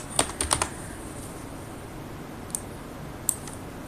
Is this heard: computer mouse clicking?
yes